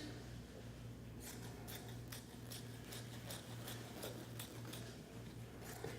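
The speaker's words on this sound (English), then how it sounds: "Take my scissors." Quiet, repeated crisp snips of scissors cutting along a fold in soft polar fleece fabric, a dozen or so close strokes against a low background hum.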